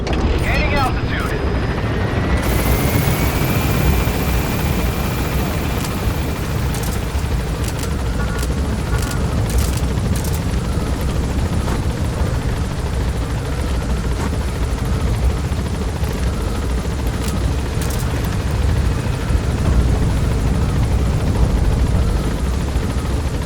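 A Blackhawk-style military helicopter in Metal Gear Solid V: The Phantom Pain roars steadily as it gains altitude. Loud, continuous rotor and engine noise fills the scene, with a brief rising tone and a few clicks early on.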